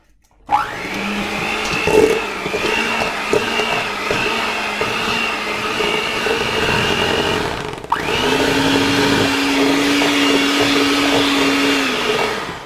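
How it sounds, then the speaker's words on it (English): A hand mixer whips cream cheese and instant pudding in a bowl, a loud steady motor whir running alone for several seconds, briefly stopping, then starting again at a slightly different pitch. "we're going to use a hand mixer for this to make it nice and extra smooth"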